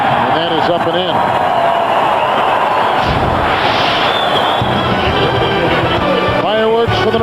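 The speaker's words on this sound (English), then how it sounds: "Fireworks for the New England Patriots." Fireworks go off over a football stadium at an NFL game, New England Patriots at Carolina Panthers in 2001, as a dense crowd roar stays loud throughout and an announcer talks over it.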